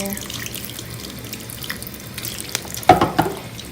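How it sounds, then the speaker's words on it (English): A kitchen tap runs steadily while amethyst crystals are rinsed under the stream, a close, continuous water hiss that turns into a louder splashing burst near the end. "let's get it wet. Run that underwater."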